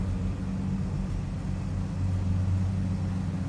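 A 1955 Chevrolet 5-Window pickup truck engine idles steadily with a smooth, low rumble and even hum, close by and without any talking.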